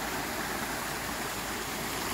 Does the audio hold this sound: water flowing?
yes